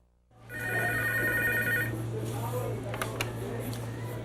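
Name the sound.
telephone ringing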